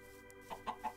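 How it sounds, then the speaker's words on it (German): Chickens cluck in the Life in the Woods game: three short, faint bursts in quick succession, sitting on top of a steady low hum. "Ich höre immer so ein Klacken, wenn die Hühner sich bewegen"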